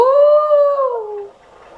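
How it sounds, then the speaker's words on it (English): A dog howls loudly and close by in one long wavering cry that slides down in pitch and fades into quieter whimpering, with no talk over it. "Forgive me if you can hear those dogs that are barking."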